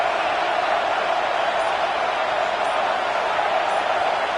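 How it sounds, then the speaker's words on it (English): Dense, steady roar of a stadium crowd urging on the defense on third down in a college football video game, UGA vs LSU, a loud unbroken wash of noise with no distinct peaks. "Decibels rising as the crowd gets behind this defense on third down."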